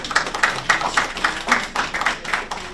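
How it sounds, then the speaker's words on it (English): A few people clap in a regular rhythm at a board meeting, a single slow, steady run of close handclaps with no other sound. "clap with me if you want to support me"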